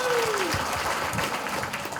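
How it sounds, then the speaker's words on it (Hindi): An audience claps for a product at a testimonial event, a steady wash of applause throughout, with a falling tone at the start and faint voices underneath. "एक बार जोरदार तालियां होना चाहिए मैजिकल प्रोडक्ट के लिए"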